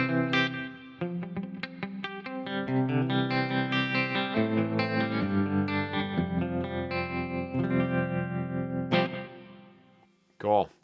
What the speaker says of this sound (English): And we also have an extra reverb we can throw in.